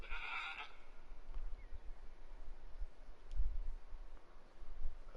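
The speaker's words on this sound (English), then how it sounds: "A feral goat, eh?" A feral goat bleats once in theHunter: Call of the Wild, Emerald Coast Australia, a short, fairly loud call at the start, followed by quiet outdoor ambience with faint low rumbles.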